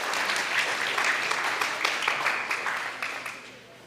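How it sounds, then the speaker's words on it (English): Audience applause at a Science On Saturday talk on autonomous sensors, steady dense clapping from a crowd lasting several seconds and tapering off near the end, with no talk over it. "How about a round of applause?"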